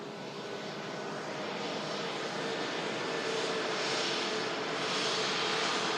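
A Qatar Airways Boeing 787 Dreamliner airliner comes in to land, its engines giving a steady, broad jet roar that grows slightly louder over the span, with no talking.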